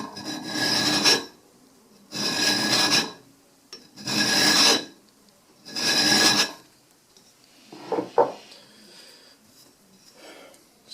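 A hand checkering file rasps across the steel front strap of a 1911 pistol in four long, even strokes, each followed by a pause, then a few shorter, lighter scrapes. The strokes are close and crisp, with no talking.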